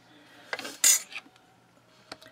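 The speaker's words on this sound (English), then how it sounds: "I'm going to start by just slicing this into thinner slices." A blade slices a block of soft Premo Sunshine polymer clay into thin slices on a work surface. It gives a few close, sharp taps and one louder scraping cut, then a final brief click.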